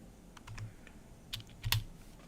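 Computer keyboard keys tapped to enter Minecraft coordinates, heard as a short, sparse burst of close, light clicks with a few louder presses near the end and no talk.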